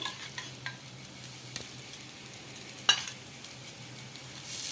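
A cucumber dosa fries in oil on a pan with a soft, steady sizzle, punctuated by a few light clicks and taps of a utensil against the pan.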